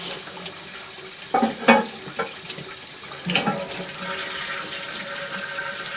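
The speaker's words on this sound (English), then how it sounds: "you could actually flush that toilet and then see where it comes in" A household toilet flushing in a house, heard close up as a broad rushing gush of water that swells partway through and then settles into a steady refilling hiss.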